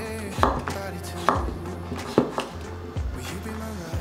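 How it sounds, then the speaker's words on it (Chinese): A peeled potato sliced on a cutting board with a knife, about five firm, evenly spaced chops close by, each followed by a short thud. "把马铃薯切片"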